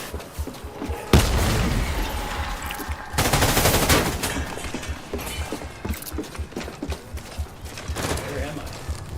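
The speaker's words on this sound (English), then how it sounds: "You just don't want to get hit by this gunfire, because that will hurt" Gunfire in the video game Death Stranding: loud bursts of shots, with a dense rapid volley at the start and another after a short gap, then scattered lighter cracks under a busy game soundscape.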